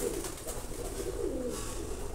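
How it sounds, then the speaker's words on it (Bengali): Small pigeons of the Madda breed coo softly in low, repeated throaty calls, close and steady against a background hum. "এই দুটো হলো ছোটো মাদ্দা গ্রুপের কবুতর"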